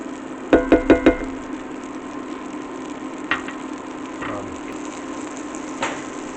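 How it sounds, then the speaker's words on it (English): Three tablespoons of vegan butter sizzle steadily as they melt in a frying pan. A quick run of four knocks against the pan opens it, followed by a few softer taps. "Into the pan is going to go 3 tablespoons of vegan butter. We're going to let that melt down."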